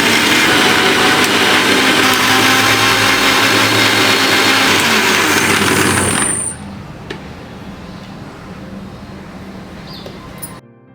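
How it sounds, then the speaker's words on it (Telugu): Mixer grinder whirring loudly as it blends aloe vera pieces into juice, a steady high-pitched motor roar for about six seconds that then cuts off, leaving a quiet room. "ఇప్పుడు మిక్సీ పెట్టి మెత్తని జ్యూస్ తయారు చేసుకుందామండి."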